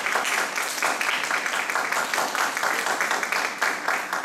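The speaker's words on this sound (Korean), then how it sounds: "이병영 강사님 나오셔서 큰 박수로 환영해 주시기 바랍니다" An audience at a parents' seminar applauds steadily to welcome a guest lecturer, dense continuous clapping from many hands at close range with a faint murmur of voices beneath.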